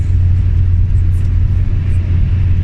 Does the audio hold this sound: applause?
no